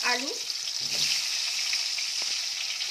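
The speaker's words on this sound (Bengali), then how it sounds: "আলুগুলোকে ভালো করে ভেজে নেব।" Round-sliced potatoes frying in a pan, a steady close hiss of oil sizzling throughout with a brief stir near the start, no voices.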